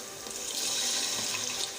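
Steady running water pours continuously into a cooking pan of frying masala for a couple of seconds, a soft broadband splashing hiss with no voices.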